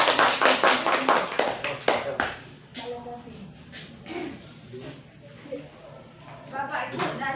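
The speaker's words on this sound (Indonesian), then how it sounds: "mari tepuk tangan untuk di" A small group in a classroom-style session claps in a quick burst of loud, separate claps for about two seconds, then it dies away into scattered taps and people talking.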